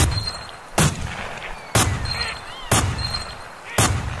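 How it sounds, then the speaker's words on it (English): Four loud, evenly spaced gunshots in the Duck Dynasty video game, each a sharp crack with a short ringing tail over quiet game ambience. "That's some fine shooting, John Luke."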